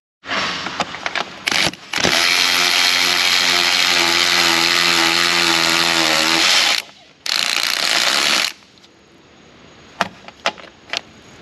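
Loud power tool, likely an impact wrench, running on the shock absorber bolts of a 2014 Audi A6 TDI with a suspension problem, in one long burst, then a shorter one, followed by scattered clanks nearby.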